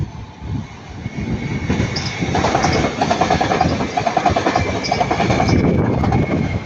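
Class 331 electric train, unit 331112, passing at Ardwick on a run out of Manchester Piccadilly, a loud rumbling approach with rhythmic wheel clatter over rail joints and faint squeal, heard close by.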